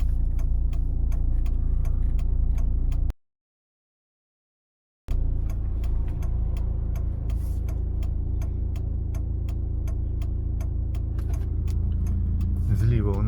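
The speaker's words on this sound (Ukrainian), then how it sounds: "лівий покажчик повороту" Car left turn indicator ticking inside a vehicle on a driving exam route, a steady rhythmic clicking over engine hum, broken by a short gap of silence, with someone talking.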